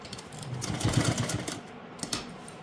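A sewing machine stitches a plazo pant, short bursts of mechanical clatter in a quick rhythm, close and moderately loud against a faint room background.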